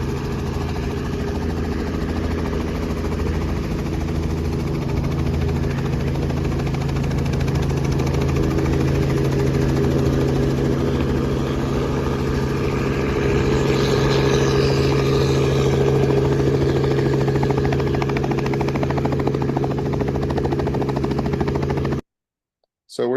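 The Sprayhawk unmanned helicopter's engine and rotors hum loud and constant with a low droning tone, running steadily for over twenty seconds before stopping abruptly, with talk occasionally over it.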